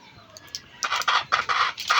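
A sick domestic chicken clucking close by, a quick series of short, loud, rhythmic clucks following a brief quiet moment.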